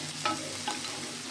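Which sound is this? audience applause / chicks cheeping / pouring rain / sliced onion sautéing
sliced onion sautéing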